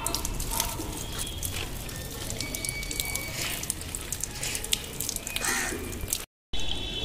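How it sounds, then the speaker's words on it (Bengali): Water sprays steadily over a pest-infested lemon tree, a continuous hiss and patter of droplets on leaves that runs for several seconds before a brief cut. "তো গাছটা এইভাবে পুরো আমি স্নান করিয়ে দিচ্ছি।"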